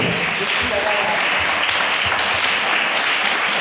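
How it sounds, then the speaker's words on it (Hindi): A church congregation claps for God during a Hindi-language worship service, a dense, steady wash of many hands clapping together that fills the whole stretch, with some voices mixed in underneath. "हम जब भी परमेश्वर के लिए ताली बजाते हैं, हमारे हाथ जो है ऊपर होने चाहिए।"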